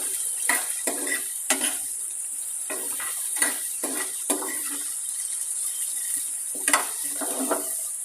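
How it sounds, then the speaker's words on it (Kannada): Sweet corn frying in ghee for a street-style corn masala, a steady close sizzle broken by sharp scraping stirs of the spatula against the pan, no voices. "ಇದನ್ನು ತುಪ್ಪದಲ್ಲಿ ಚೆನ್ನಾಗಿ ಹುರ್ಕೋಣ"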